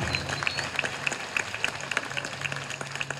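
A crowd at a Bolivian political rally breaks into applause, dense clapping sustained across the moment with sharp individual claps popping out over a low rumble.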